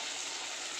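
Chopped tomato hits onions that have browned in hot oil, giving a dense, continuous close sizzle for a brief moment.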